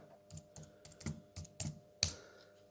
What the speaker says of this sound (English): I'm just going to type in the password.